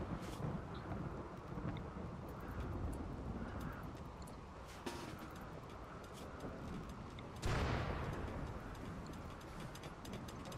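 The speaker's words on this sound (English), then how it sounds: "Oh, well, it's raining." Steady rain pours down in a video game outdoor scene by a lake, a dense continuous hiss with low rumbling gusts, a louder burst swelling near the end, no talk.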